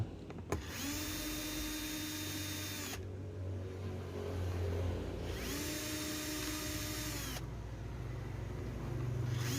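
An electric screwdriver drill whirs in two sustained bursts removing screws from a Bluetooth speaker, winding up and spinning down, close and loud, with a short pause between runs.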